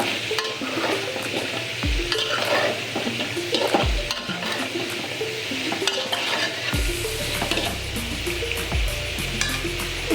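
Spices stirred and sizzling in a frying pan, a dense continuous fry with repeated scraping strokes of a spoon against the metal, loud and close throughout.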